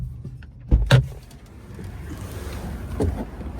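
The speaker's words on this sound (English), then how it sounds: "power windows," Power windows on a 2024 Hyundai Kona Electric SEL: a couple of close thumps and clicks, then a soft, low motor whir running as the glass moves.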